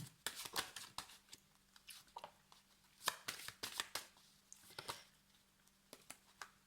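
Tarot cards being shuffled by hand in quick, crisp bursts of riffling and slapping, close and fairly quiet, with short pauses between runs.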